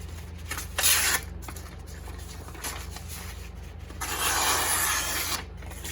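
A Kershaw Blur folding knife with an M4 steel blade slices through a piece of tape, giving two short raspy tearing bursts against a quiet background.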